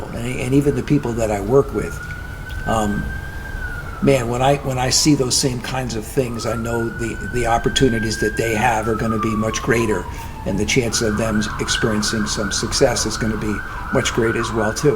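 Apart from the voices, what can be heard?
ambulance siren passing in the city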